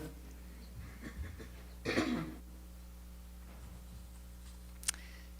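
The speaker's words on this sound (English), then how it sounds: "I'm going to clear my throat again, hang on." A man clears his throat once, a short rough burst close to the microphone in an otherwise quiet room, followed by a faint tick a few seconds later.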